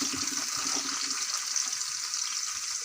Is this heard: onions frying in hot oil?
yes